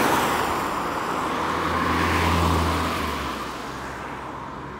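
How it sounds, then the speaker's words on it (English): Steady road traffic rumbles past nearby, with a broad low engine drone that swells to a peak midway and then eases off as vehicles move on; no talking. "There's plenty of traffic around here"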